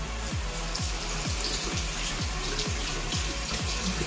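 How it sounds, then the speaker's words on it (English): Tap water runs steadily into a sink while hands are rinsed under it, a continuous close splashing wash with a repeating low rhythmic pulse and no talking. "So I'm going to go ahead and wash my hands off right now."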